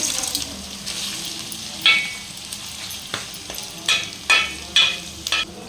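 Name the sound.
fish pieces frying with onion and ginger-garlic paste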